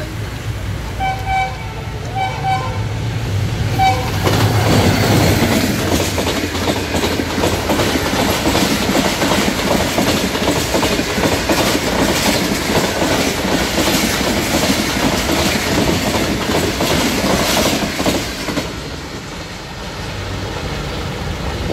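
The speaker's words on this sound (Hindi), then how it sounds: "लीजिए ट्रेन आ गई।" A train rolls past close by on the railway tracks in Lahore. It makes a loud sustained rumble and a clickety-clack of the wheels, with a horn toot near the start, then fades toward the end.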